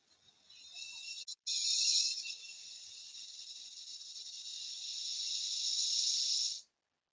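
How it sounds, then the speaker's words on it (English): A steady hissing effect like serpents, a breathy high hiss that fades in, breaks off briefly, then swells gradually louder for several seconds before cutting off abruptly, heard alone with no voices. "And you can hear a hissing."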